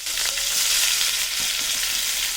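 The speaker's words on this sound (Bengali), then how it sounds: "এবার পেঁয়াজটাকে লাল করে ভেজে নেব।" Whole garlic, two green chillies and chopped onion frying in oil in a pan, a steady, bright hiss of sizzling, close and fairly loud, with faint stirring and no talking.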